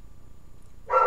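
Dogs at a home kennel give a short burst of barking that starts abruptly near the end, loud and close after a quiet stretch.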